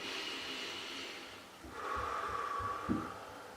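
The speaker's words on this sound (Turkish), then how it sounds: "Derin bir şekilde nefes alıp vermemiz gerekiyor ve nefesi burundan alıp ağızdan vermemiz gerekiyor" A deep breath drawn in through the nose and let out through the mouth during a resistance-band back and triceps workout, a soft, close, airy rush with a brief snort-like puff, heard alone.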